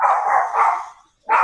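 A dog barks loudly and close during an online business-coaching meeting: one long drawn-out bark, a short pause, then another starting.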